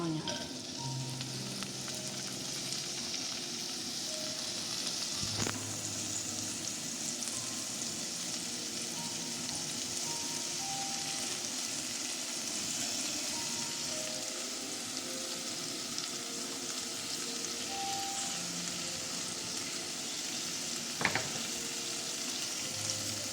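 Garlic and chili stir-frying in hot oil for a sticky peanut stir fry, a steady close sizzle that runs on without a break, with occasional stirring clinks and scrapes and no voices.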